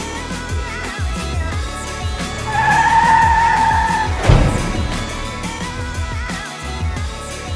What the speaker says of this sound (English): Cut to burnout.